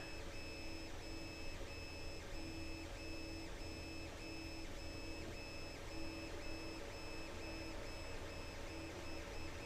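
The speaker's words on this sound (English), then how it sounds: "the only noise that's happening right now is the printer" A Creality CR-10 Mini 3D printer runs steadily with a continuous whir and tonal hum, punctuated by regular faint ticking pulses, with no voices.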